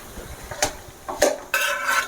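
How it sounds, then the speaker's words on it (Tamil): A cup of cooked rice tips into a pan for sambal rice, heard as a few close metallic clinks and scrapes of a spoon or cup against the pan, then a softer rustling spill, with no talk. "இப்போ நம்ம அந்த 1 கப்பு சாதத்தை அதில் கொட்டிக்கலாம்."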